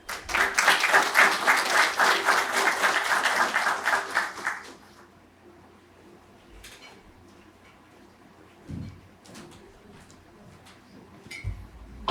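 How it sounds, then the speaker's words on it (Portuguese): Audience applause for a product coordinator from Altus Sistemas de Automação at a morning conference session, dense and steady for about four seconds before cutting off, leaving a quiet room with a few faint knocks and shuffles. "vamos receber, com uma forte salva de palmas"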